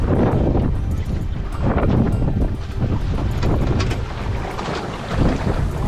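A fishing boat under way in choppy water off Curtis Island near Gladstone, Queensland: a loud, steady rush of hull-slapped water and engine rumble, heavily buffeted by wind across the microphone throughout.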